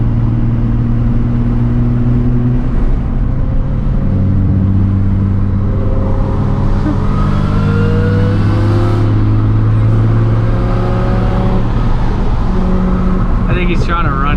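A supercharged Nissan 350Z engine drones steadily throughout, with low harmonic bands rising and falling as it revs under load during a drive, heard from inside the car. It stays loud and continuous, with the engine note shifting in pitch through the run.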